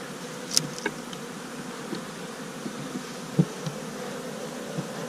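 Feral honeybee colony in a winter hive opened on a warm January day, a faint steady hum with a few brief insects buzzing close past, no talking.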